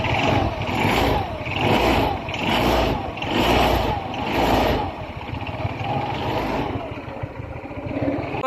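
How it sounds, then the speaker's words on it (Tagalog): A Honda Beat 110 motorcycle engine idling after starting, a rough rhythmic putter with pulsing surges, close and moderately loud, steadying toward the end. "At yun na nga, umandar ang motor ni Honor."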